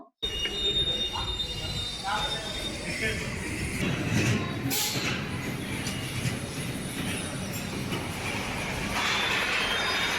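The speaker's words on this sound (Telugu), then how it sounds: "ఇప్పుడు మనం ట్రైన్ రైడ్కి వచ్చేసాం" An amusement park train ride at Wonderla, Bengaluru rumbles along steadily with rattling wheels and a brief squeal, broadband noise continuous throughout, with crowd voices mixed in.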